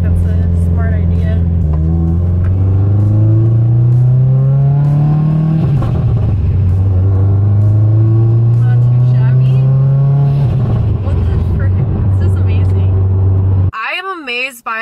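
A Mitsubishi Evo 10 engine fitted with a new clutch idles and revs in two long sustained rises, loud and close, with a brief burst near the end as the sound cuts off.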